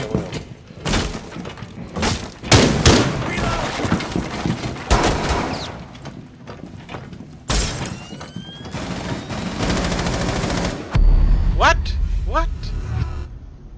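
Gunfire in Rainbow Six Siege during a team deathmatch secure-area round on the Oregon map, with bursts of automatic fire and sharp shots over several seconds alongside crashing impacts, under game voice lines and talk.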